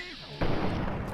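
A single loud close-range gunshot in Fallout 3 bursts out after a brief quieter stretch, followed by a dense, sustained rumbling blast that fills the rest of the moment.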